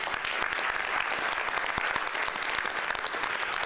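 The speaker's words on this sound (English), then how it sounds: "So let's give them a round of applause for that." Steady applause fills a civic election candidates forum in Lethbridge, a large audience clapping loudly and continuously with no voices over it.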